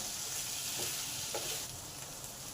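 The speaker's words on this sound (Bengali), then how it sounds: "মশলার কাঁচা গন্ধ যতক্ষণ না যাচ্ছে ঠিক ততক্ষণই কষতে হবে" Pumpkin curry with panch phoron spices being sautéed and stirred in a pan, a steady close sizzle with a couple of soft scraping stirs, no talking.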